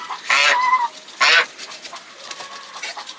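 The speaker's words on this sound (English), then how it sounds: "Here are the geese." Farm geese in a snowstorm give two loud, close honks, followed by fainter scattered calls and light rustling in the background.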